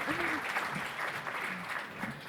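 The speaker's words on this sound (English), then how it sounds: "Can I have another round of applause for our tax experts?" Conference audience applauding tax experts at the Invest: Miami 2018 event, a steady wash of clapping that fills the short moment, with faint voices murmuring underneath.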